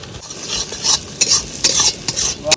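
Green chilli and ginger stirred in a sizzling pan of spices for a pabda fish curry, with a steady close frying hiss broken by repeated scraping strokes of a spoon against the pan, loud and without talk.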